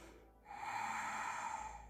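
A single slow nasal inhale during a yoga glute exercise, close and soft, rising after a brief pause and holding steadily for over a second with no talking.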